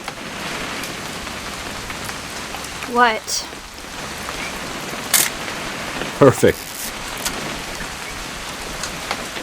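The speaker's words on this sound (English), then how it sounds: "It's gonna rain the whole weekend, isn't it?" Steady rain falls in the game What Remains of Edith Finch, an even hiss running throughout, broken by a few brief voices and small knocks.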